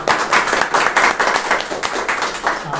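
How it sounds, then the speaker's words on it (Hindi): Loud, rhythmic clapping from a church congregation at a midweek worship service, the crowd striking hands together in unison in a quick, steady beat of roughly three claps per second. "तो परमेश्वर के लिए हम जोरदार ताली बजाते हैं।"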